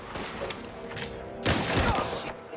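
A burst of gunfire in Mafia: The Old Country, with dense rapid shots that swell into a loud, heavy volley partway through, over a constant battle din.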